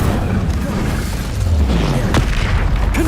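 Incendio fire spell cast in the Hogwarts Legacy video game, a loud, continuous booming burst with deep rumble filling the whole moment, no talking.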